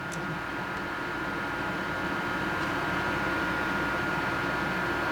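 A Bedred dehumidifier runs with a loud, steady droning hum and broadband whirring noise from its fan and compressor, constant and close throughout.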